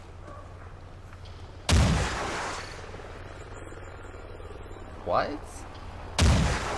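Two heavy gunshots boom in Call of Duty Ghosts, loud and close with long echoing tails, spaced several seconds apart over a faint insect-like ambience, with a brief spoken word between them.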